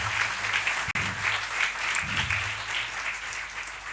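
A university lecture audience breaks into sustained applause, loud and dense throughout, with a brief sharp dropout near the start and a murmur of voices rising briefly in the middle.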